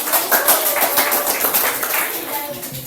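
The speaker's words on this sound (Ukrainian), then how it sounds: "Оплескаємо." Audience applause at a school award ceremony, a dense steady wash of many hands clapping, loud and sustained throughout.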